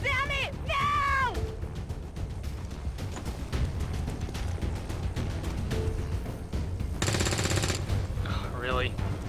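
Bursts of rapid automatic gunfire in XCOM 2 combat, loud and close, with repeated rattling volleys, shouting voices and sharp impacts layered over a dense battle din.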